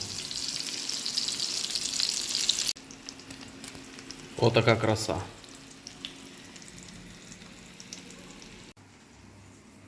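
Eggplant slices in batter fry in plenty of oil over moderate heat, a steady crackling sizzle that drops quieter partway through, with a short burst of louder spattering or stirring in the middle and a brief spoken remark.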